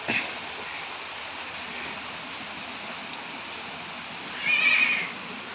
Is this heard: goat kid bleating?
yes